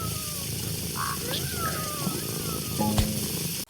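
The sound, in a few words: orange tabby cat meowing in a video game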